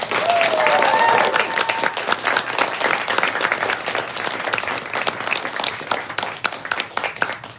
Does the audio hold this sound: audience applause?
yes